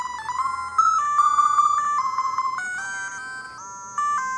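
Chiptune-style video game music plays from the single small speaker of a PowKiddy Q20 Mini handheld, a bright bleeping melody of quick stepping tones, loud and clear with no talk.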